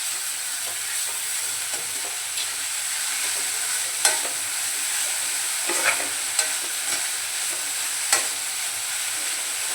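Dried prawns being stirred with softened onion in a pan give a steady low sizzle with occasional scraping clicks of the spoon, fairly quiet and close, with no voices.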